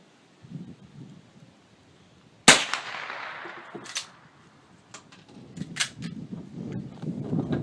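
An old project gun being cocked and dry-fired in a gunsmith's workshop: one sharp loud metallic snap, followed by a few lighter clicks and handling noises against a quiet room.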